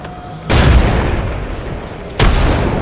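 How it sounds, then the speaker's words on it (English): In the Apex Legends game, two loud booming grenade explosions go off about two seconds apart, each a sharp blast with a rumbling tail. "Grenade deployed. Grenade out."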